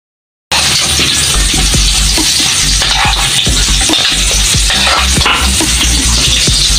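Bihon noodles are stir-fried with garlic, onions and cabbage, a loud steady sizzle running throughout with repeated sharp scrapes and taps of a utensil against the pan.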